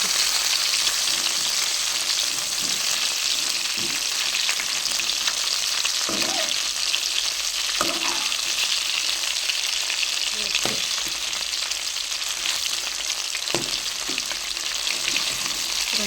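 Biryani meat pieces fry with a steady, loud sizzle in a hot pan, broken every few seconds by brief scraping clatters as the pieces are turned over, with no voices.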